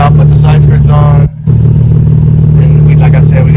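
A Nissan 350Z drift car engine idles close by, a loud, steady low rumble with a brief dip in level partway through, then resuming its even burble.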